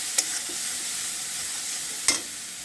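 Spice masala of coriander and cumin powder sautéing in a pan makes a continuous soft sizzle, broken by two brief sharp utensil clicks; no voices.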